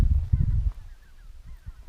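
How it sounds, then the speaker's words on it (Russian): A flock of geese flying overhead, several hoarse honks in short irregular bursts, moderately close but fairly quiet, with no talking over them. "Гуси летят."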